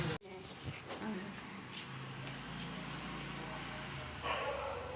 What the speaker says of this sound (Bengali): কুকুরগুলো ভ্যা ভ্যা করছে